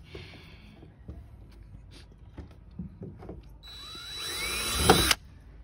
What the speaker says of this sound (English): just drilled a hole in there